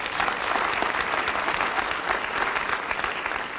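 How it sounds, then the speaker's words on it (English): Audience at a Youth Motivation Task Force school assembly applauding, a dense, steady round of clapping from a large crowd that holds at full volume throughout. "let's give you a huge round of applause"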